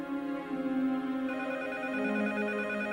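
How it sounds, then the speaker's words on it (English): A telephone rings with a steady, sustained electronic tone, fairly loud and close, holding continuously for about three seconds with no talk over it. "Bob Monkhouse's agent received a dramatic phone call from a mysterious South African"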